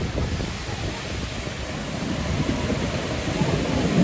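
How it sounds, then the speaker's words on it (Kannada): Athirappilly waterfall in Kerala, a steady loud roar of rushing, crashing water, broad and continuous, growing slightly louder near the end, no voices. "Welcome to ಅತ್ತರ್ಪಿಲ್ಲಿ water falls."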